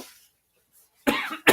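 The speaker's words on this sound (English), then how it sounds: "Forgive me, I got to blow my nose" A person blows their nose in two short, rough bursts of breathy noise following a moment of quiet.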